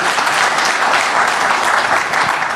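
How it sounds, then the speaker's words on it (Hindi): Sustained applause from a crowd welcoming a chief minister at a televised event, dense and steady throughout with no pauses, fairly loud and filling the space. "तालियों के साथ उनका स्वागत कीजिए।"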